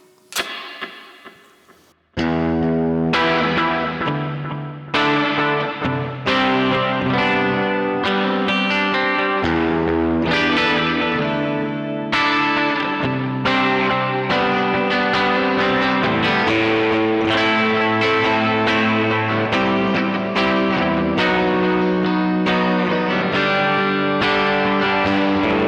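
Electric guitar through a Sonicake Levitate delay and reverb pedal set to a very bright hall reverb with delay, a loud run of rhythmic chord stabs whose repeats echo and blur together in a steady, ringing wash for the whole passage.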